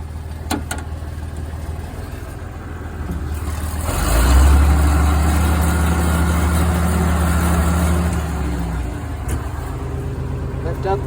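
A tractor with a raised 3-point hitch being driven off to park, its diesel engine running steadily and swelling louder midway, a low continuous drone outdoors under occasional talk.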